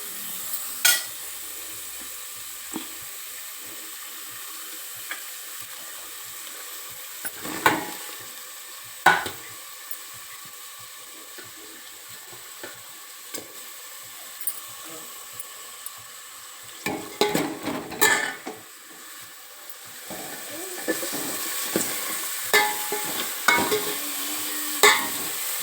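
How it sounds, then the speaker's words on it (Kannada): Onions fry in hot oil in a pan for a Kannada sprouted-legume curry, with a steady soft sizzle throughout. Occasional stirring scrapes and clinks punctuate it, and the sizzle grows louder toward the end. "ಈ ಈರುಳ್ಳಿ ಎಣ್ಣೆಯಲ್ಲಿ ಫ್ರೈ"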